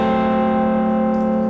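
A dissonant chord strummed once on guitar, all strings ringing together in a loud, sustained, slightly harsh wash that holds steady without decaying much.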